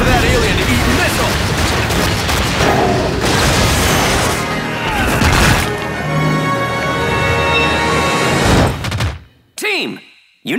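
Missile explosions from the Wonderful 101 action game on Wii U, dense booming bursts packed under music and effects for several seconds before a sudden drop to near silence.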